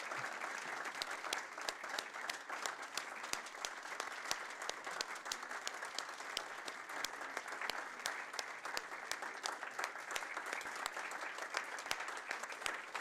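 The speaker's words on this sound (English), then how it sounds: "Let's give Nyla a rousing round of applause" An audience at a Board of Education meeting gives student Nyla a sustained round of applause, even, continuous clapping from many hands that holds steady for the whole stretch, heard from a moderate distance.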